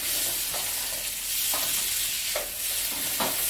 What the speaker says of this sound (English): I'm going to turn the heat up because I like the sound of a sizzle